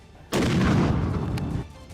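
A single mortar round is fired on a battlefield in Yemen, landing as one sudden loud boom that rumbles and decays over about a second and a half before the background settles again.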